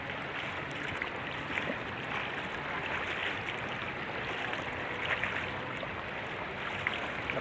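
A river current flows steadily nearby, a dense, even rushing wash with no breaks and no voices over it.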